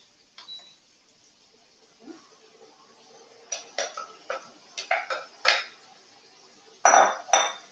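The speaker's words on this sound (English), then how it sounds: "I'm just going to add our diced potatoes right into our frying pan here." Diced potatoes tumble into a frying pan, giving a run of sharp clinks and clatters that come in quick bursts and finish with a louder spill near the end, close and otherwise quiet.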